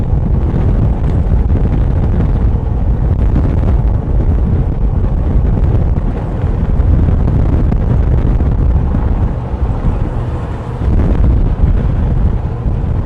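Strong wind gusting across an open race track near a lake with few trees, a loud continuous roar of wind buffeting the microphone throughout, no voices.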